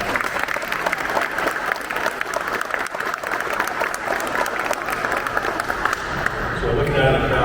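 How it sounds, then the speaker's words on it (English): An audience claps steadily through an awards ceremony at a Cincinnati music hall after the national anthem, a dense sustained applause that swells slightly near the end. "So a round of applause for that."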